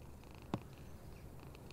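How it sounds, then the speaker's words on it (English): Cat purring in the video game Alone in the Dark: Prologue, a faint soft purr over a low steady background with one brief louder thump midway. "Purring, where's the cats at?"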